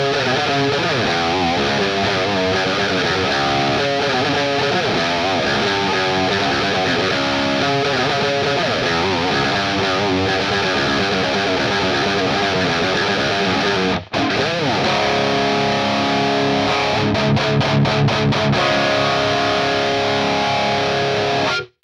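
Electric guitar played through a Neural DSP IIC+ amp plugin with a boost pedal in front, a continuous saturated high-gain tone with a short break near the middle and choppy muted chugs toward the end.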